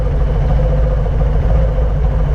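Harley-Davidson Sport Glide with a 107 engine running close by, a steady, loud, rumbling idle with a low throb and no voices.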